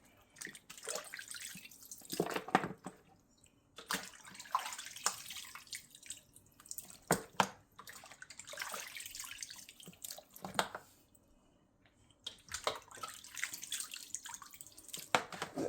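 Goat meat being washed in water with vinegar and lemon, a running tap splashing and sloshing in repeated bursts near a sink, with dripping in the short pauses and no voices.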